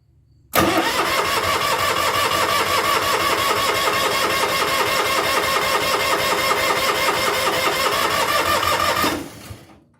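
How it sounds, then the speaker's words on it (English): Onan DJB generator engine cranking without fuel and trying to start, a loud, steady rapid chugging that runs for about nine seconds before cutting off, with no talk over it. "Sounded like it tried to start."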